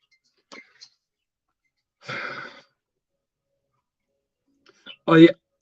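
A single sharp sneeze bursts out near the end, after a couple of soft clicks and a brief breathy sound in an otherwise quiet room.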